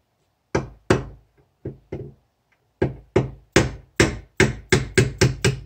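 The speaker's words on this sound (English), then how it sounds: "Dead blow hammer" A dead blow hammer thuds repeatedly on a BMW Airhead motorcycle starter part, starting with scattered single and double strikes, then settling into a fast, regular series of heavy knocks.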